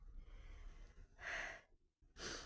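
A cat breathing at home, soft airy breaths with two louder hissing exhalations close by, alone without talk.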